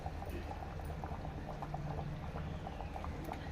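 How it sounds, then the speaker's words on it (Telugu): Mango fish curry (chepala pulusu) boiling steadily in a pot, a constant close bubbling and popping texture with soft irregular blips, alone without voices. "పదిహేను లేదా ఇరవై నిమిషాలు అయితే బాగా మరుగుతుంది"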